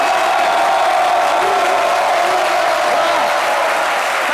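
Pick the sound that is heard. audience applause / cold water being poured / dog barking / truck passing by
audience applause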